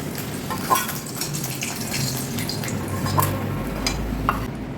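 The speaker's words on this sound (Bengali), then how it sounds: "এবার শিল ধুয়ে জলটা নিয়ে নেবো" Water splashes and trickles over a stone grinding slab (shil) as it is rinsed in a home kitchen, with soft drips and clinks running continuously at close range.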